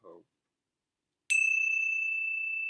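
A single bell is struck once after a brief soft voice sound, ringing out with a clear, sustained metallic tone that decays slowly in quiet surroundings.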